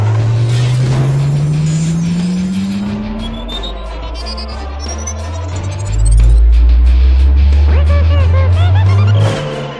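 An electric car in GTA V accelerates with a rising engine whine that climbs and drops in pitch, loud and close, over game background sounds.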